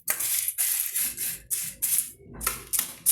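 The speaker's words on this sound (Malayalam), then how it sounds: "ഇവിടെ തൊട്ടടുത്ത് പണി നടക്കുവാണ്, വീടിൻ്റെ പണി. ഭയങ്കര ഒച്ചയും ബഹളമാണ് ഇവിടെ." Construction work on a house next door: a run of loud, harsh bursts, scraping or grinding in repeated strokes of roughly half a second each with short gaps between, close and dominating, no talk.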